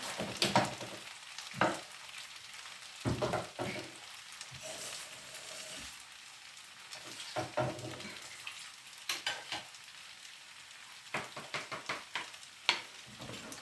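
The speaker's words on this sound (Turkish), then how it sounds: "Yeşil mercimeğini koyuyorum." Green lentils tipped into a hot pot for a Turkish green lentil and noodle dish, giving a steady close sizzle and frying hiss broken by repeated stirring scrapes and clatters throughout, with no talk.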